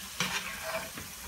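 Meat and onions fry in a pan for a kefta tajine with peas, giving a soft, steady sizzle with a few stirring scrapes close by.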